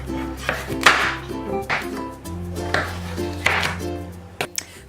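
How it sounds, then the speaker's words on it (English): Sweet potatoes being cut with a knife on a board, several distinct chopping thuds at an uneven pace, close and fairly loud over quiet background music. "let's cut our sweet potatoes"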